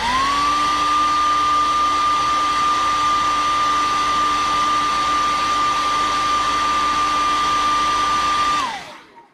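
Hair dryer drying freshly painted fishing lures: a steady, close whooshing blow with a constant high whine running unbroken for about nine seconds, then switched off and winding down.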